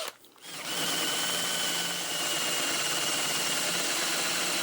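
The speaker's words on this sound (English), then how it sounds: "let's go ahead and drill the next one." A cobalt drill bit bores into a metal SFIC lock cylinder, a loud continuous high-pitched whine of the drill grinding steadily after a brief quiet start.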